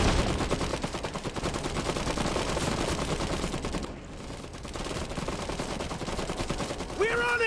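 Dense, continuous gunfire and machine-gun bursts from the Iron Harvest strategy game fill the whole stretch, loud and layered, with a brief dip partway through.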